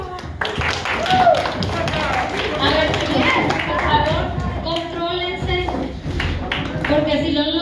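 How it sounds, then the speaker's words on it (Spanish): Students in a Mexican telesecundaria classroom clap for a classmate's life-project presentation, steady scattered applause with voices chattering over it. "Ok, muy bien. Un aplauso, José Luis."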